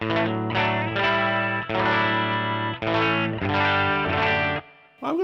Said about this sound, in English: Our next pedal is the RC booster